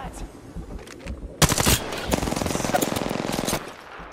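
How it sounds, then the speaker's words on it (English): Bursts of rapid automatic gunfire in the Apex battle royale, with a sharp close volley followed by a sustained rattling stream of shots lasting a couple of seconds, loud and near, over faint background game sounds. "Getting shot at."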